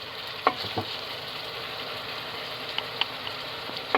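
Tomato sauce with tomato paste, garlic and spices being stirred in a pan for a baked spinach dish: a steady soft sizzle throughout, with a few sharp scraping clinks of the utensil against the pan.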